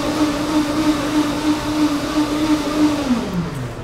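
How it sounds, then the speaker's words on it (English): A blender runs steadily with a continuous motor whine, then the pitch drops as it winds down near the end, heard alone with no talking. "I'll wait for the blender to stop."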